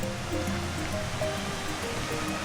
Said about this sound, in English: So we're just coming down to the little Nerang Creek now.